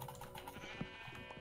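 A sheep bleats in the video game Minecraft, a wavering bleat over soft keyboard typing and game background.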